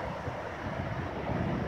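A cool breeze blows across a hilltop above a stormy sea at Arkhipo-Osipovka, a steady full rushing roar buffeting the microphone, with distant surf blended underneath.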